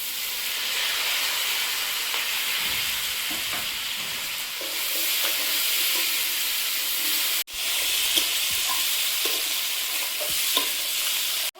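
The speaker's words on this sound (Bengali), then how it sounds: "ফোড়ন আর আলু একসাথে ভালোভাবে ভেজে নিয়েছি, এবার টমেটো আর কাঁচা লঙ্কা দেবো" Tomatoes and green chillies go into a pan of potatoes fried with whole spices, giving a loud, continuous sizzle and hiss with occasional stirring scrapes, steady throughout and no talking.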